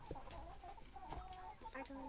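Chickens cluck in short, repeated bursts near a homemade chicken coop built from wood and wire mesh, fairly close and moderately quiet.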